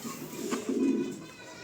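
A Danish tumbler pigeon gives a low, soft, rounded coo that swells and fades over about a second, close by, with faint background voices.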